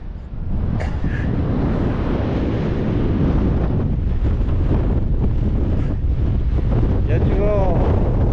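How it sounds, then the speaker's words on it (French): Strong wind on a hilltop promontory buffets the microphone in a constant loud rumbling roar, with a few faint brief voice sounds and squeaks under it. "Ah là il y a du vent"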